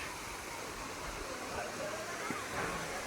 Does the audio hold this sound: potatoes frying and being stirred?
no